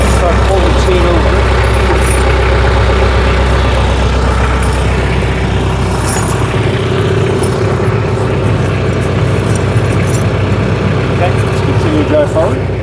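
A tractor engine runs steadily while driving forward during winter tire chain installation, a loud, continuous low rumble with a constant idle-like drone throughout.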